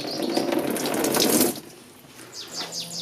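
Coolant gushes from the radiator drain plug of a Mazda MX5 Miata in a loud, splashing stream for about a second and a half, then cuts off, leaving quieter trickles and faint ticks.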